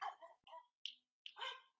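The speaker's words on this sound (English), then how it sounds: "Here's my dog here." A dog barks a few times, short separate yaps with gaps between them, fairly close but quiet in the background of a home setting.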